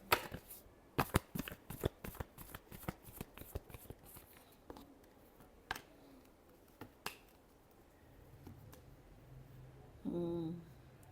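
Tarot cards are shuffled by hand in a rapid series of crisp, close riffles and slaps, thinning out to a few scattered flicks, with a short tonal hum near the end.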